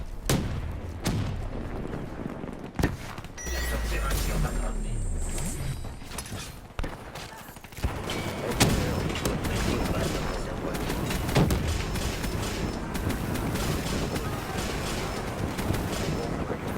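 Rapid gunfire and explosions from a Black Ops 3 match fill the whole stretch, loud bursts and booms rolling almost without pause while players talk over the game sound.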